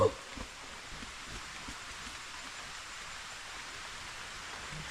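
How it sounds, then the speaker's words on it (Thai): Rain drumming on a shopping mall roof at night, a steady faint hiss of drops with no talk, after a short bump at the start. "ทุกคนได้ยินเสียงเม็ดฝนกระทบกับ หลังคา ห้างไหมครับ"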